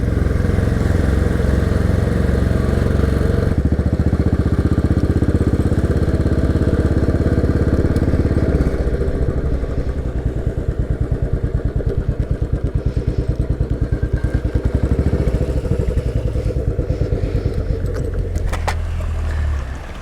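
Royal Enfield motorcycle riding through Wales: a loud, close engine thrum holds steady, then settles into a lower, pulsing beat as it slows, with wind rush and small rattles, and no talk.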